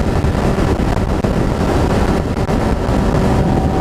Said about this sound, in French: Mais encore, j'ai un vent de face là